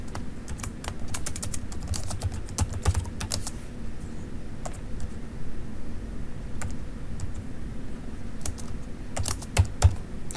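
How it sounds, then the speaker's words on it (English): Someone types a note on a computer keyboard, with close, quick bursts of key clicks in uneven clusters that are separated by short pauses and continue for about ten seconds, with no talking. "We'll go ahead and type that in as note number 2."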